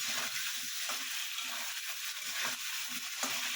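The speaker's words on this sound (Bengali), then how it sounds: "আমি যে আদা আর কাঁচা লঙ্কা বেটে রেখেছিলাম সেটা দেব, দিয়ে একটু কষে নেব" Ginger and green chili paste sizzles and fries in a pan, the steady crackle broken by the rhythmic scrape of stirring, close and clear with no talking.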